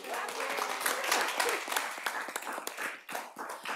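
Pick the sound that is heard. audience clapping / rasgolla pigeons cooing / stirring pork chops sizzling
audience clapping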